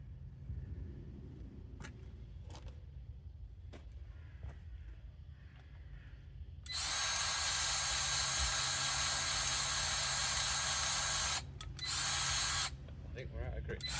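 A grease gun runs on an Avant 220 loader during servicing: a steady, loud, high whirring burst of several seconds, then a brief pause and a shorter second burst, against low background noise.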